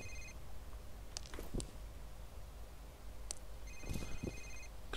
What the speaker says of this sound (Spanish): Suena un móvil.